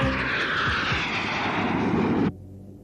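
Airplane engine sound effect from a Japanese tokusatsu TV series, a loud steady roaring drone that cuts off abruptly, no voices.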